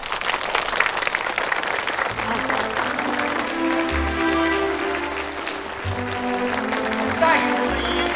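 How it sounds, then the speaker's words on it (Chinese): A graduation ceremony crowd applauds a graduate representative called to the stage; steady, full clapping fills the room over an underlying musical accompaniment. "掌声有请何牧阳。"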